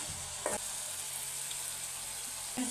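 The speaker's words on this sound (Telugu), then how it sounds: "ఇది కొంచెంసేపు వేగనీయాలి" Tomato rice ingredients fry in a pan in a village kitchen, a steady soft sizzle throughout with a couple of brief stirring scrapes.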